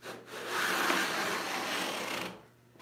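A crosscut hand saw resaws an 8-inch-wide walnut board in one long, close rasping stroke lasting about two seconds, slightly uneven as the teeth skip along, then fading.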